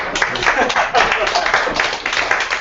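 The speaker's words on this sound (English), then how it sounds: "let's give a round of applause for that." Audience at a live talk on Ethereum giving a round of applause, a dense burst of clapping with loud close claps, mixed with voices throughout.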